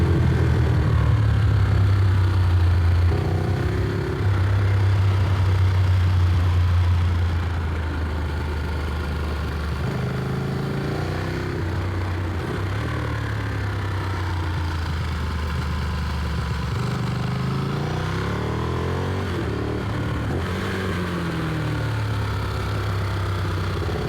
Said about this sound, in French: Parlons un petit peu de cette Ducati Street Fighter 1098S.